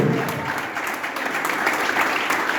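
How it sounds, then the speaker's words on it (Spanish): Dense, sustained applause from a church congregation, steady and fairly loud with a faint murmur of voices underneath. "Manda un aplauso al Señor por eso."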